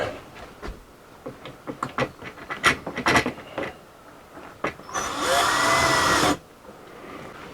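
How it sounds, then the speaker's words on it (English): A power driver sets screws into the plastic cover of a Coleman Mach RV air conditioner, with scattered clicks and knocks, then a loud, close, steady whir lasting about a second and a half. "While he's putting those last two screws in"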